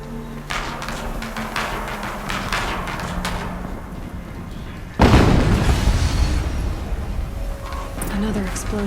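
A game explosion in Horizon Zero Dawn Remastered on PS5 Pro: a sudden loud boom about halfway through rolls into sustained rumbling debris over ongoing battle noise, following earlier crackling clatter.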